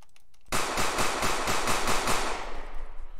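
Rapid gunfire in an Unreal Engine 4 game, a sharp onset followed by a fast regular burst of about a dozen shots over two seconds, close and loud, then a fading tail.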